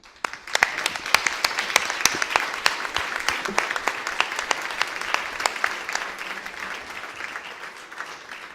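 An audience applauds a musician at an event, a steady, dense round of clapping that starts suddenly, holds for several seconds and then slowly thins out.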